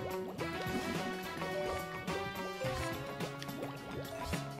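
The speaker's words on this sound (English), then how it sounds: "just gonna hold your heads in these air vents and just let the bubbles just replenish your air meter" Underwater air vents in the GameCube game Ty the Tasmanian Tiger release streams of bubbles, a steady burbling gurgle with repeated bubbly pops over a musical game backdrop.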